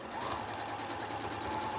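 A sewing machine stitching crumb quilt fabric pieces together, a brief, steady, close whirring hum with no talk.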